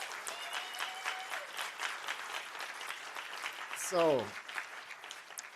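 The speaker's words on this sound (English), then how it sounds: "Let's give him a louder applause" Applause from an audience after a talk by an author fills the room as a steady, fairly soft patter of many hands; a voice speaks briefly near the end.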